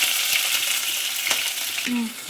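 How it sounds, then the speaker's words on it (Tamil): Onions sautéing in a pan for tomato kurma give a steady close sizzle with a few soft stirring scrapes, and no one speaks. "இந்த வெங்காயம் நல்லா வதங்கட்டும்"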